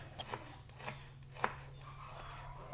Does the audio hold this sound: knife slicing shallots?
yes